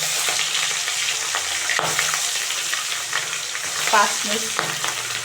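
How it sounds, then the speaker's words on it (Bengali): Rohu fish fries in hot oil, with a loud, steady sizzle throughout and a few faint scrapes of stirring, close up and with no talking. "তেলটা গরম হয়ে গেছে। এখন আমি রুই মাছগুলো মেখে রেখেছি 5 মিনিট, সেগুলো এখন ভেজে নেব।"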